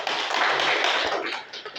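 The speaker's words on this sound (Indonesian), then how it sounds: "Oke, kita beri tepuk tangan buat Putri Balkis." Classroom applause for a student: a steady, dense wash of many hands clapping together for under two seconds, loud and close, with no speech over it.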